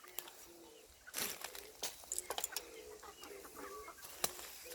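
Chickens cluck and chatter while being fed grain, several birds near and far giving short, scattered clucks and squawks over a quiet farmyard background, with no talking.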